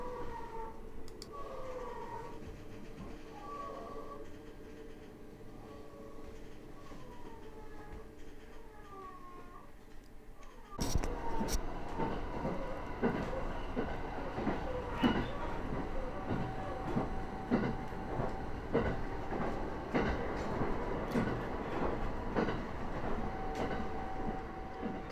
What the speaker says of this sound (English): この列車は上越線普通列車水上行きです